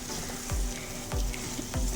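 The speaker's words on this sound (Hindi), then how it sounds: "अब हम इसे ऑयल के अंदर अच्छे से फ्राई कर लेंगे" Potatoes, onion and tomato fry in oil with a steady soft sizzle, broken by three evenly spaced stirring scrapes, faint and close.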